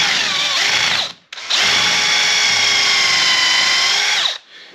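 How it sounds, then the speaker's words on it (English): A power drill countersinks screw holes in a wooden log bench: a short burst, a brief stop, then a longer steady high whine as the bit cuts, close and loud. "I'm gonna drill, countersink some holes down in here"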